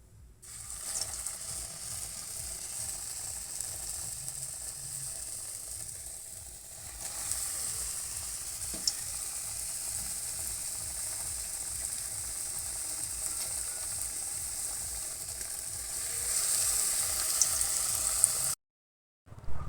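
Fish-shaped pieces fry in hot oil in a wok, giving a steady, close sizzle and crackle that carries on for a long stretch with occasional faint clicks and scrapes.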